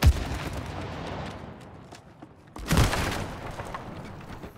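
A heavy video game explosion in It Takes Two opens with a boom, followed by a rumbling roar, then another loud blast with crackling debris that slowly dies away.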